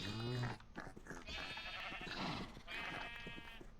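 Several baby sheep bleat in the TerraFirmaCraft modpack, a string of wavering cries in quick succession, fairly close and clear with no talking over them.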